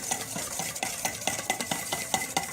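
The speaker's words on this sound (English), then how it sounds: "We just want to whisk them" Two egg yolks being whisked in a bowl, a quick, close run of rhythmic clinking taps of the whisk against the sides, roughly five strokes per second.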